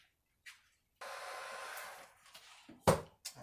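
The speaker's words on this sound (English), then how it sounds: "Anyway, let me get the heat gun." A heat gun blows steadily on epoxy resin for a bathroom sink, a close whooshing hiss of about a second, with light knocks and handling clatter around it.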